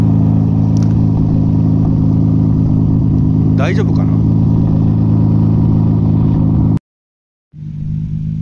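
A Nissan R32 GT-R fitted with an off-the-shelf Power FC engine computer idles roughly during idle learning, a close, continuous low engine hum with a wavering tone. Someone speaks briefly over it, and the sound cuts out for a moment before returning.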